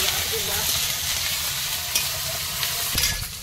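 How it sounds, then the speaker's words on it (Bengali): Chopped onion with ginger-garlic paste frying in oil for an egg curry, a loud, close, continuous sizzle broken by occasional scraping knocks of stirring. "তেলের মধ্যে পেঁয়াজ কুচিটা দিলাম, আদা রসুন বাটা।"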